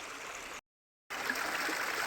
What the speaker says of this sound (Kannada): ಇಲ್ಲಿಂದ ಕಲ್ಲು ಒಳಗಡೆ ಹೋಗ್ಲಿಕ್ಕತ್ತದ ನೀರು.